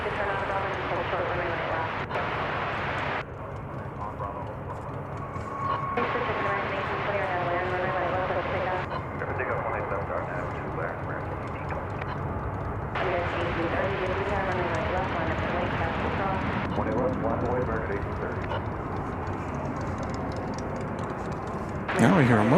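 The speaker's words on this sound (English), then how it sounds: "As a plane lands right in front of us here at Founders Plaza." An airplane's engine roar carries nearby at a steady level as it lands at DFW Airport, with a few shifts in tone, under ongoing chatter and background noise.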